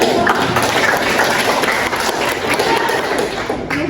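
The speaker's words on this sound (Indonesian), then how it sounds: "Tahan, tepuk tangan dulu." Schoolchildren applauding in a classroom during a lesson, a loud, dense burst of clapping with thumps and chatter throughout.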